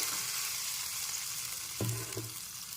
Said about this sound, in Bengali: একটু নেড়ে চেড়ে ভেজে নিতে হবে